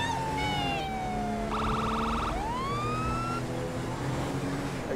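Police car siren in Grand Theft Auto V, a loud wailing tone sweeping down then up, with a brief rapid yelp burst in the middle, over steady game engine and street ambience.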